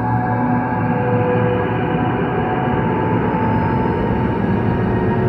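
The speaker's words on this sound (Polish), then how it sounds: "To, co teraz słyszycie, to dźwięki otoczenia, które mogą lecieć w tle na tych ruinach." A dense, steady ambient drone from a Fortnite ruins location hums continuously with a soft, shimmering, mystical texture, evenly loud throughout with no distinct events or voices.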